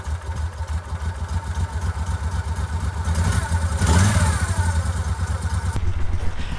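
A 2005 Moto Guzzi Breva 750 motorcycle engine runs close by, a steady throbbing idle with mechanical clatter that swells slightly in a light rev before settling.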